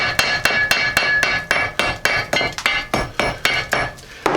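A hammer taps flaking rust off a rusted Jeep Cherokee XJ hub and knuckle in a quick, even series of about sixteen sharp metallic strikes, close and clear with no talk over them.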